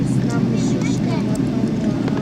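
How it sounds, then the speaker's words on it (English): Aircraft engines drone steadily close by, a continuous loud roar with people talking over it. "Those are all the planes behind us."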